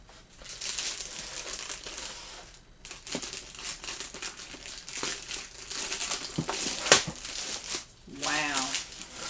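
Paper or tissue inside a Jordan 1 Heritage Washed Black sneaker box crinkles and crushes in steady bursts close to the mic, with someone talking excitedly over and between the rustling.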